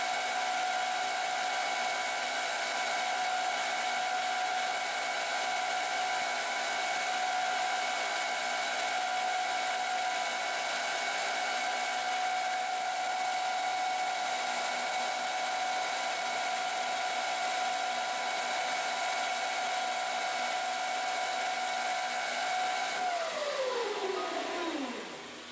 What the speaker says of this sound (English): And then now we're going to start the profiling operation. Again, we're just taking really light passes here.